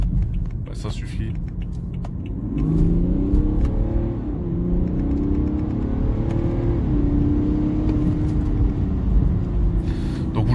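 A BMW 330d F31 estate with a stage 1 tune, raised to 316 hp from the standard 258, accelerates from inside the car. Its engine note rises through the gears over a deep rumble, and someone talks over it.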